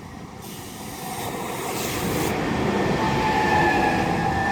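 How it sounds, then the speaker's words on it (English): A double-headed Southeastern Class 395 Javelin high-speed train pulls into Ebbsfleet International on HS1, giving a steady rumble that grows louder and closer, with a faint high whine over the rolling noise. "arriving in now is going to be the 1002 Southeastern High Speed Service to London St Pancras from Margate"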